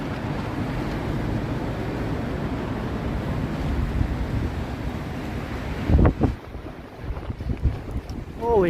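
Strong wind roars and buffets the microphone in a constant heavy rush on a downtown Toronto street, then eases briefly before gusting up again.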